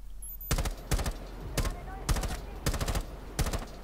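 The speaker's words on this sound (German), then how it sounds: "Bolle gibt Schüsse ab" Gunfire in the video game Rainbow Six Siege: several sharp bursts of rapid shots in a loose rhythm, loud and close against a quiet background.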